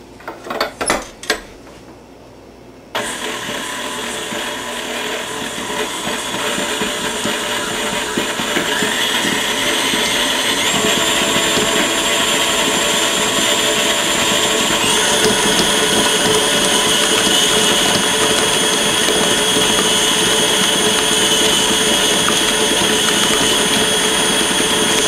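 An electric mixer creams unsalted margarine with granulated sugar in a bowl for spritz cookie dough, a steady whirring motor drone that kicks in after a few seconds and runs continuously, close and fairly loud, with no talk.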